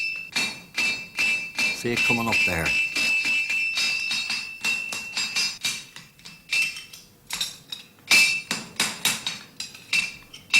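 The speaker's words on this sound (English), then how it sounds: "There's the clip being beaten into the shoe now with the side of the cat's head hammer." A farrier hammers a clip into a horseshoe with the side of a cat's head hammer, giving a rapid run of sharp, ringing metallic strikes in steady rhythm, close and loud, with brief speech between blows.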